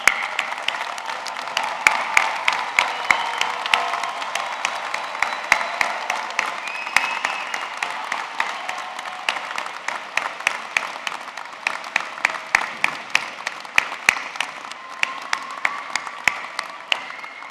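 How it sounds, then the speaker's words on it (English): A commencement audience and graduates at Hofstra University's 2024 Deane School of Law ceremony break into sustained, dense applause that fills the hall steadily from start to finish. "I ask the platform party and all of our graduates to rise, face the audience, thank and applaud all the people who mean so much to you today."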